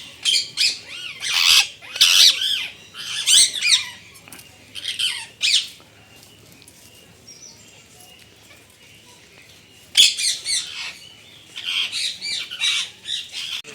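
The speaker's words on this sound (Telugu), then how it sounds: "హౌస్ స్పేర్ అరుస్తూ ఉన్నాయి అప్పటి నుంచి." House sparrows at the Sri Venkateswara Zoological Park in Tirupati chirp and squawk in loud, close bursts, fall quiet for several seconds, then resume their shrill chatter.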